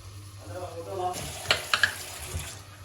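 Rice fries in olive oil while being stirred, giving a soft sizzle with scraping and clinking of the spoon against the pot, close and moderately loud, as a voice speaks briefly underneath.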